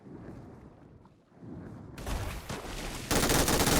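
Gunfire from PUBG Mobile, starting with scattered shots over background game noise and building into loud, dense bursts of automatic fire toward the end.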